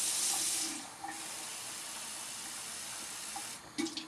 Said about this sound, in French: Je vais mettre un verre d'eau dans la casserole pour faire la sauce.